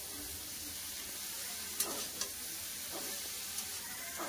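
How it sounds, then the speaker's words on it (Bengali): Cauliflower and potato fry with spices and a splash of water in a pan, a soft, steady sizzle with a few quiet scrapes of stirring, faint throughout. "কফিটাকে ভালো করে মশলার সাথে কষে নিচ্ছি"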